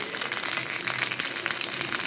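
Mustard seeds frying and crackling in hot oil over a low flame, a dense, steady sizzle dotted with quick sharp pops, close and fairly loud, with no voices.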